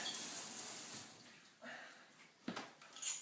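A hot shower runs during a home inspection, a faint steady hiss of water with a few louder splashes and spurts.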